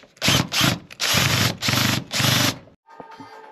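A powered screwdriver backs bolts out of a ventilation recovery unit being dismantled in a studio, five loud whirring bursts separated by short pauses, then a few quiet clicks and rattles.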